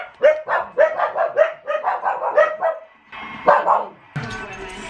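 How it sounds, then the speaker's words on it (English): Two dogs bark close by in a quick rhythmic series of sharp barks, pausing briefly before a few more, with a louder burst of noise at the end. "The two dogs are right here"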